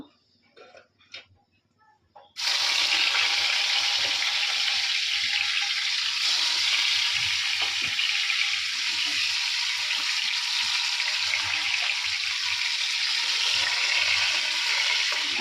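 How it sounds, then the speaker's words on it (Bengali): Fish hit a hot pan and a loud, steady sizzle of frying bursts in after a few quiet clinks and handling noises, then continues close and constant. "তো এখন মাছগুলো ভাজবো"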